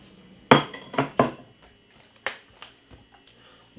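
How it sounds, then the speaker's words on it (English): Grated ginger, one teaspoon, dropped into a glass, giving a few sharp close clinks and taps of spoon on glass, then softer knocks fading out. "get 1 teaspoon of grated ginger, put it straight inside of it just like that"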